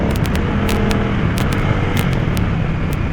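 Close, steady engine rumble from a motorcycle rounding a corner as the rider slips the clutch and opens the throttle. Repeated sharp clicks and bursts of wind noise cut across the continuous drone.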